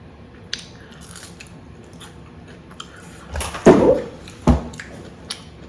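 Crunchy fried cornbread being bitten and chewed, heard as faint scattered crackles and a couple of louder crunchy bites near the end, close up and without talk.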